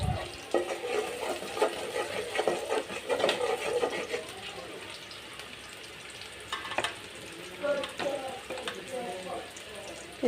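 Onions fry in a pan as the base for a fish curry, a steady close sizzle with stirring scrapes that is stronger in the first half and then settles into a softer hiss.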